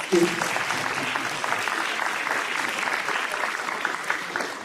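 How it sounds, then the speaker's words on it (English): At a school ceremony honoring students of the month, the audience and parents give a round of applause: a dense, even wash of clapping from a crowd that holds steady throughout. "let's give the audience and parents a round of applause"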